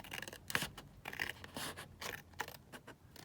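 Scissors cutting through a paper envelope flap, several quick, close scraping snips in short bursts, quiet and with no talking.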